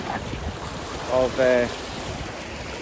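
Ocean waves crash along a New Zealand shorefront as a steady, broad wash of surf fills the background, with a voice speaking briefly over it.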